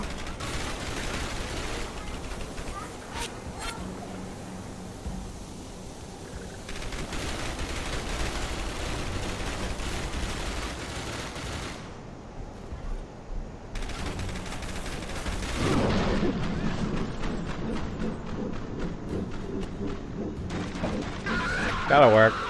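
Dense, continuous gunfire from the video game Dark Sector, sustained bursts and rattling shots throughout with a louder crash near the end, a voice talking intermittently over the action.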